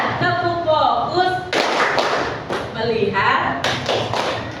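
A class of students claps out a rhythmic pattern in a classroom, with sharp bursts of hand claps mixed with loud group chanting voices.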